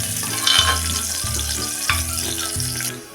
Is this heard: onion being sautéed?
yes